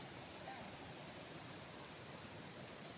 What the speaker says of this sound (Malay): Ini air sungai.